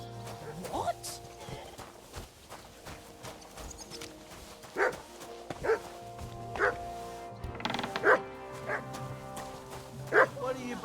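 A dog in the Kingdom Come Deliverance 2 video game barks in repeated sharp, moderately close bursts over a steady game soundscape, with hoof-like clip-clops and mechanical sounds mixed in.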